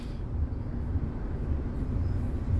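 Steady low rumble and rhythmic rolling noise inside a high-speed train from Makkah to Jeddah, a continuous drone with faint periodic thumps.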